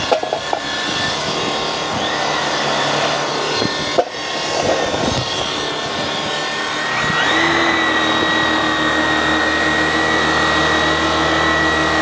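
An electric buffer whirs against a pitted metal cattle bumper, first with scraping, rubbing bursts, then it settles into a steady loud grinding whine as polishing continues, close up and without talk.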